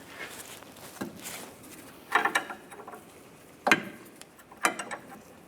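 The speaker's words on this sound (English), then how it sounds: "I'm going to use a 15mm wrench, loosen up the nut" A 15mm wrench works the lower nut of a front sway bar link on a 2015-2019 Lincoln MKC, giving a few sharp metallic clicks and ratcheting bursts spaced a second or so apart, close and fairly quiet.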